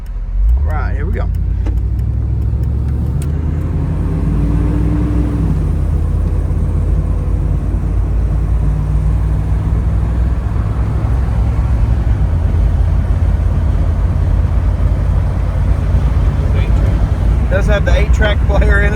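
A 1978 Chevrolet Corvette Indy 500 Pace Car with 5,000 original miles drives along, its engine a steady low rumble heard from inside the car, with brief clicks near the start and end.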